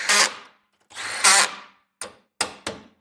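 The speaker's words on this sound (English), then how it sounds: "drill, clutch is set, and that's as tight as it needs to be" Cordless drill with its clutch set, tightening bearing cap bolts during an ARB locker install on a Land Rover Defender: two longer whirring runs, then three short sharp bursts as the clutch slips, close and alone.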